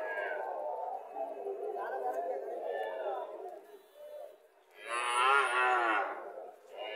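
A Haryana dairy cow at a village cattle market in Barura, Comilla gives one loud, drawn-out moo close by, while people chatter steadily around it.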